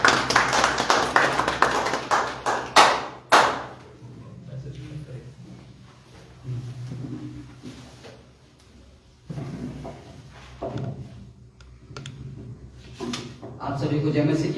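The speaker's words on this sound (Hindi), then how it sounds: "दिनेश कुमार के लिए जोरदार ताली बजाएंगे।" Church congregation at a Sunday evening prayer service clapping loudly for a person invited forward, a brief burst of applause at the start that fades into quieter moments with a voice speaking.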